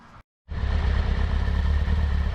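After a brief silence, a Kawasaki ZR-7 four-cylinder motorcycle engine idles steadily and evenly, a close, low rumbling throb with light mechanical clatter.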